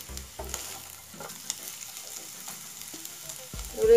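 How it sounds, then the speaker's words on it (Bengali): Garlic and chili fry in oil in a pan for a black cumin bhorta, giving a soft steady sizzle broken by spoon-stirring scrapes and clinks, with a louder hiss at the end. "একটু ব্রাউন কালার হওয়া পর্যন্ত ভেজে নিব।"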